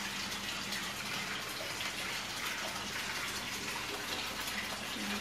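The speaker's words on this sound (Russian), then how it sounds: "Начала наливать водичку." Water pours steadily into a home aquarium being set up with driftwood and plants, a continuous close gushing rush with no pauses or voices.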